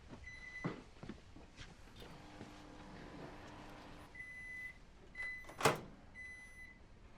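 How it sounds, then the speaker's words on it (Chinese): A microwave oven reheating braised pork in a home kitchen: quiet hum with several short electronic beeps, a low tone in the middle, and a sharp clack near the end, with no talk. "我把红烧肉端去微波炉， 再热一下"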